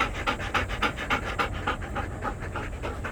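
A large dog on a hike up Gwanaksan mountain pants fast and steady, with about three breaths per second, close and loud against outdoor noise, with no talk.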